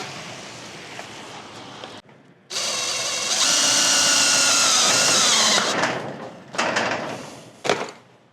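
A power drill drives self-tapping screws into a garage door, with a loud sustained whine lasting a few seconds, then shorter bursts and ratcheting clicks as the bit finishes, heard close and alone.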